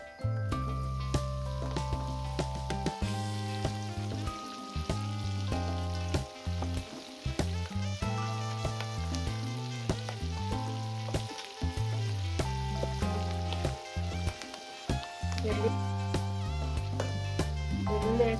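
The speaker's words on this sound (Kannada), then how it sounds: "ಇವಾಗ ಬೆಳ್ಳುಳ್ಳಿ ಹಾಕೋಣ." Garlic goes into hot oil with golden-fried rice flakes while chivada snack mix is cooked, giving a soft sizzle under a prominent, steady musical backing track.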